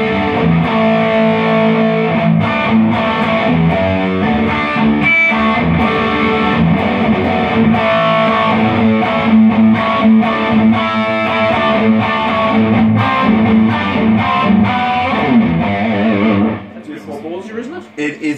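A Music Man Steve Morse electric guitar with DiMarzio pickups plays a loud, crunchy distorted passage of sustained chords and notes, continuous for most of the clip before dropping away near the end.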